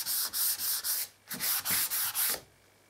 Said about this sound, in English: First thing you want to do is give it a light sand again.